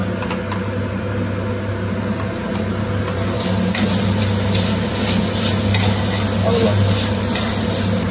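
Chicken pizza topping being stirred with mixed sauces in a pan, a steady sizzle with scraping stirs over a constant low hum, no voices.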